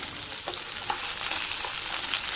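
Small-cut pumpkin pieces tipped into onions frying in a pan, giving a dense, even sizzle close by with a few soft stirring scrapes, and no voices.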